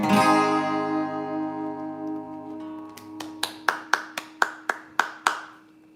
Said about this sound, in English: That's me doing the clapping that's at the end of the recorded version to make it a bit more authentic.